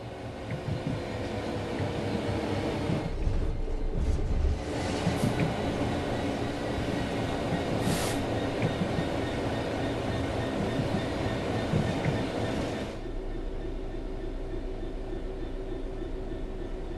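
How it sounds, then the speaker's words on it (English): A locomotive in Train Sim World 4 coasts on level ground with the throttle closed, giving a steady, continuous rumble of rolling wheels and running gear with faint rail noise throughout, and no voices. "The train will then coast on level ground, and the train will only slow down very gradually."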